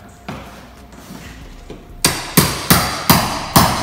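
A hammer drives a chisel under floor tile during removal, starting with a few light taps and then five loud, sharp, evenly spaced blows close by, with no talking.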